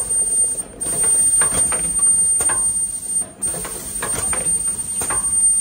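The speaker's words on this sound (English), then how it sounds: "Now you do UV dryer and automatic unloading." An automatic cup screen printer's UV dryer and unloading stage clatters and whirs steadily, with rhythmic mechanical clicks and a couple of brief dips as parts cycle through.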